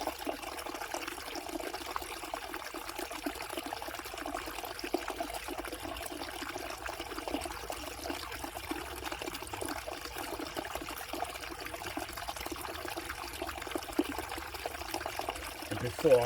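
Water flows steadily outdoors in a continuous trickling, pouring wash, moderately close, with someone talking faintly over it.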